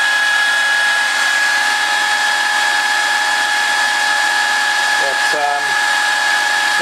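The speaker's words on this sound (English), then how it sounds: "No change in motor noise." Electric motor in a reactive generator test rig runs with a steady, loud high whine and constant hum throughout, with a brief clatter of mechanical noise near the end.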